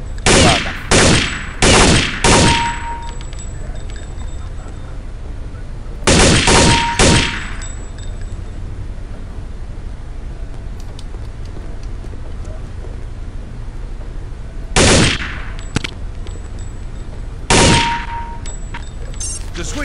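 Weapons fire in short, sharp bursts in the Counter-Strike: Condition Zero training room, with clusters of loud shots separated by quiet pauses and a faint metallic ring after some bursts.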